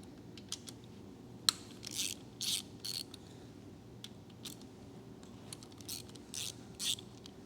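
A ratchet cracking loose the bolts on a Honda F32A engine during disassembly: faint, scattered bursts of clicking and a few sharp snaps over a quiet workshop background.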